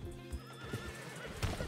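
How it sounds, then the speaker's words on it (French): A horse in the western roleplay game Calico RP neighs in a short, wavering whinny, and soft hoof clops thud underneath it. "Je vais aller chasser un cheval là."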